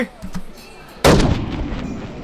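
Gunfire in a video game: after a soft start there is one loud, close shot with a long decaying boom, and no talk under it.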